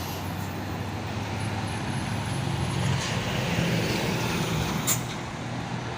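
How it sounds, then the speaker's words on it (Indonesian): A trailer truck rolls downhill on a road, a steady low engine rumble with traffic noise and a brief hiss like an air brake near the end. "Ada truk trailer menurun."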